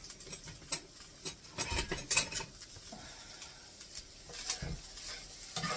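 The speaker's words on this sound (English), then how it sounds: "So now we're going to get that stirred together." Onions are stirred into canned potatoes in a pan, a spoon scraping and clicking in scattered strokes over a faint sizzle, close and fairly quiet, with no talking.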